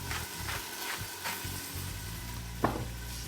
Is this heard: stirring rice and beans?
yes